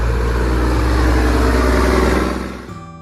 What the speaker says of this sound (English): ईंधन ट्रक